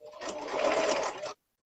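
A sewing machine runs a fast, even burst of stitching with a worn needle at a quilting session, a close buzzing whir lasting just over a second before cutting off into silence.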